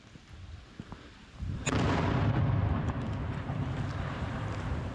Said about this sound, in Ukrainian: і постійно вибухає і стріляє